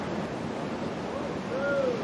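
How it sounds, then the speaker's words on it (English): Ocean surf breaking at a surfing contest in Fiji, a continuous close rush of white water with a swell toward the end and a thin whistling tone rising over it, no speech. "More waves on the way in this set."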